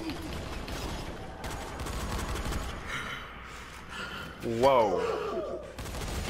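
Repeated bursts of gunfire from enemies in the zombie survival game Dying Light crack through the clip in uneven volleys, with a man's startled exclamation and breathing heard over the shots.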